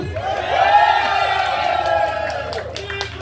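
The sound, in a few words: live audience applauding and cheering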